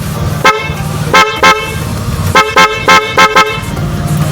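Several short car horn honks, loud and close, in irregular bursts over a steady engine hum, some blasts paired in quick succession.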